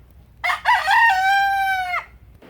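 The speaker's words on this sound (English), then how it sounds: "Got roosters around here everywhere." A rooster crows once outdoors, a loud, close, drawn-out cock-a-doodle-doo that lasts about a second and a half against a quiet background.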